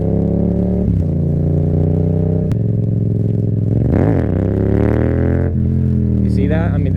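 A Yamaha XSR 700 motorcycle engine drones loudly and steadily while riding, with wind buffeting and the pitch rising and falling as it accelerates and shifts.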